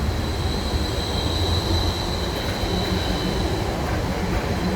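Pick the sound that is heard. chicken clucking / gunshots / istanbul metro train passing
istanbul metro train passing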